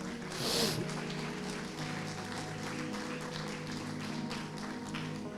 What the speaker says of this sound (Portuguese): Vamos aplaudir as nossas criancinhas.